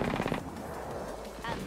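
Rapid automatic gunfire from a teammate in the video game Apex Legends, a dense close burst at the start that fades into a steady background, with a voice talking over it.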